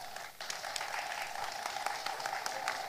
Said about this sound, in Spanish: Para ellos yo les voy a pedir un fuerte aplauso